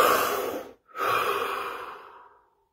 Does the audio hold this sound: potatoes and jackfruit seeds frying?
no